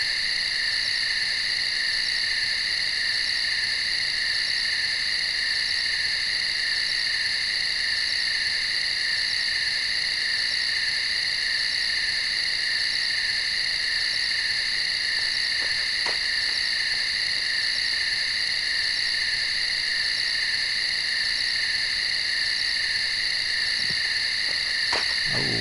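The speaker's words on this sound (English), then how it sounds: "The crickets, man, oh my god, they just came out a few minutes ago" Crickets in the game EverQuest, Greater Faydark forest, a dense, steady high-pitched chirring drone that runs unbroken throughout, with a few faint clicks and no talk.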